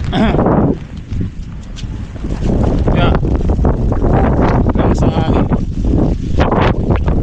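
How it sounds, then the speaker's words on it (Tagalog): Loud gusting wind buffets the microphone in a steady roar, with a voice cutting in briefly over the rushing noise. "Lakas ng hangin."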